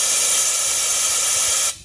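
A Harbor Freight powder coating gun blasts air at 60 PSI, a loud steady close hiss that holds without a break and then cuts off sharply at the end.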